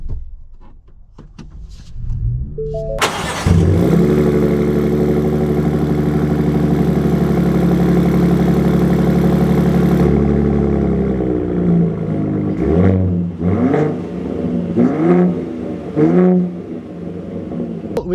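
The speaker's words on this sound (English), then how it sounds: "We are going to set off in the Raptor first" A 2024 Ford Raptor pickup's engine cranks and catches with a loud start, settles into a steady idle, then gives a few short, sharp revs near the end.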